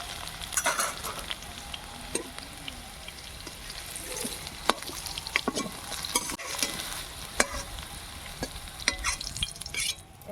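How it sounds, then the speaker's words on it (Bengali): Potatoes fry in oil in a pan with a steady crackling sizzle, punctuated by scattered stirring scrapes and light knocks of a spatula, close and even for about ten seconds. "আলুগুলো আমার লাল লাল করে ভেজে নেওয়া হয়ে গেছে"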